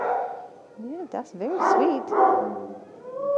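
Young female dog whimpering and yipping in rising, whiny cries at close range, mixed with a person talking over her.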